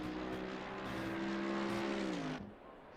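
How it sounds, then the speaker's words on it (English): Race car engines from a racing video game at the Red Bull Ring give a steady droning whine that holds for about two seconds, bends slightly downward and then cuts off. "I hear engines."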